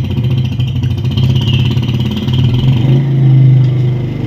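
A motorcycle engine runs in a commercial, humming steadily with a low, tonal drone that swells near the end as if revving up. It stays loud and continuous throughout, with no speech.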